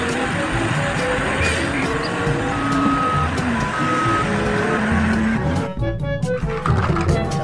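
Toy dump truck sounding reversing beeps, a series of steady electronic tones over a noisy, cluttered background, ending in a few sharper beeps near the end.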